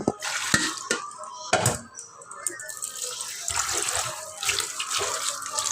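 Vegetables are washed under running tap water, with splashing, gushing water and irregular knocks and clatters of produce and a bowl, close and fairly loud throughout.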